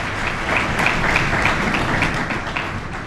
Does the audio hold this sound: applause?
yes